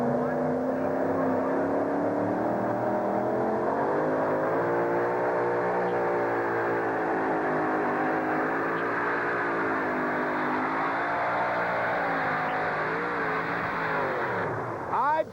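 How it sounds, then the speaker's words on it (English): The Power Play monster truck with a Keith Black Hemi engine roars through a full pull at a 1991 USHRA event in Uniondale, a loud, sustained engine drone with shifting pitch that rises toward the end, with an announcer talking over it. "That Keith Black Hemi engine gets Power Play out the back door."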